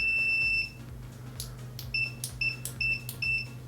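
Continuity beeper of a Circuit-Test DMR-6550 multimeter: one long shrill tone, then four short, sharp beeps in quick succession, each loud and clear over faint background hiss, with small clicks of probes between.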